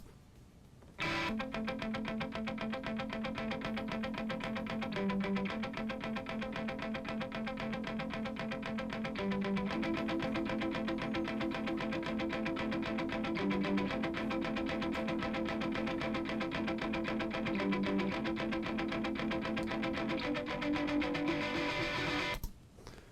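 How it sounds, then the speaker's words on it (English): A tight, chugging palm-muted electric guitar riff repeats steadily, with brief pitch shifts every few seconds, played alone and fairly loud. "the way that we were going to do that was with these palm mutes on the guitar"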